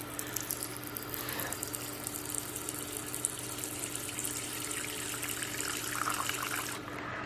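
Tap water running steadily into a sink while small tarantula water dishes are washed, a continuous hiss and splash with a low hum underneath.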